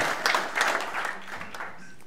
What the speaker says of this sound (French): Bravo Julien, applaudissements.